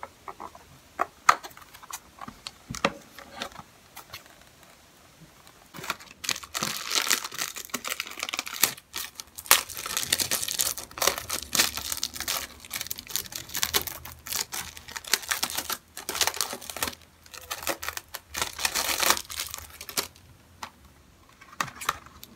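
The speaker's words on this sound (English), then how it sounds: "Got it open, unwrapped." Plastic wrap being peeled and torn off a Pierce the Veil Misadventures CD: soft sparse crinkles at first, then long busy stretches of close, crackling plastic rustle.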